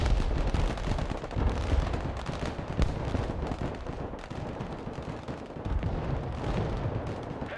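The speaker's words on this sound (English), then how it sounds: "APC fire." Armored personnel carrier gunfire in the modern USA-versus-Russia war video game Broken Arrow, dense continuous rumbling bursts and booms filling the whole stretch, loud and heavy with no pauses.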